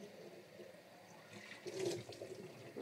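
Tap water runs over and into a pet water bottle as it is rinsed, a steady splashing wash that swells louder and more turbulent midway, close and alone.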